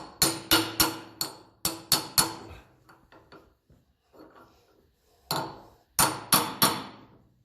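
Hammer blows drive a bearing collar home on a 1954 Ferguson TEF20 diesel tractor, sharp metallic strikes in quick bursts with short pauses and a few lighter taps between groups.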